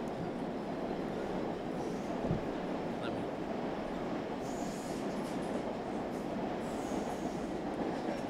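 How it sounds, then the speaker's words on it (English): A Metro-North commuter train at Murray Hill station in Queens, New York, rumbles past nearby with a steady roar, rail clatter and brief wheel squeals throughout. "we are here in Murray Hill at the Murray Hill Station"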